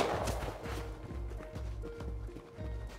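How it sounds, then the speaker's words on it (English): Galloping horse in the video game Rust: steady, rhythmic hoofbeats pounding at a quick pace throughout, fairly close and loud, with no voices. "There's a guy on the horse."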